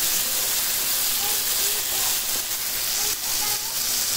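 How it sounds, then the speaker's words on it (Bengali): Tomatoes frying in a pan for a Bengali fish curry give off a steady, close, loud sizzle and hiss that holds constant throughout, with faint stirring scrapes underneath. "আমি এখন টমেটো যে ফ্রেশ করে রাখছিলাম টমেটোটা দিয়ে দিন। দিয়ে ভালো করে একটু কষাই"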